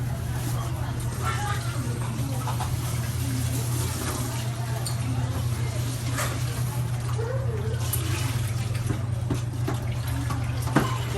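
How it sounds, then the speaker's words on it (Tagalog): Running tap water pours steadily into a basin with sloshing and clinks of washing, a constant close wash of water throughout. "Hugasan mo yung planggana."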